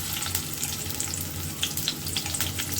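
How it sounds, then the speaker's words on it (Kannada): Vegetables for homemade noodles, including onions, beans, capsicum and carrot, sizzle in hot oil, giving a steady, close, hissing crackle that continues without a break. No voices are heard. "ಇದಕ್ಕೆ ಆಯಿಲ್ ಹಾಕೊಂಡು ಎಲ್ಲ ವೆಜಿಟೇಬಲ್ನ ಸ್ವಲ್ಪ ಸ್ಟೀರ್ ಮಾಡ್ಕೊಳ್ಳೋಣ"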